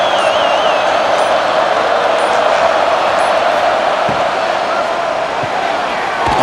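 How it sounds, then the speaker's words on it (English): Stadium crowd noise in the NCAA College Football 26 video game during a Texas Longhorns and Mississippi State Bulldogs matchup, a loud, dense, steady roar with faint whistle-like tones, filling the whole stretch. "here comes the noise. This crowd is trying to inspire this defense to make a big red zone stop"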